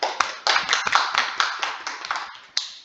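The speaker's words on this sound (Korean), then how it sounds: "박수 주세요" A small audience at a Korean web front-end performance study presentation claps by hand, a handful of sharp close claps in uneven bursts that fade between strokes, with a few louder onsets.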